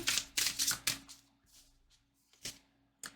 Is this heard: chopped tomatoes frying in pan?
no